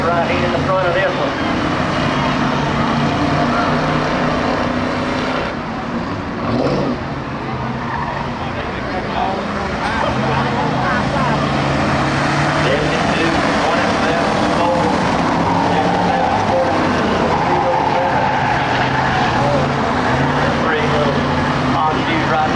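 Junior Crown Victoria race cars lapping a dirt oval at Swainsboro Raceway during a heat race, with engines roaring steadily as the pack passes and recedes, loud and continuous, while an announcer talks throughout.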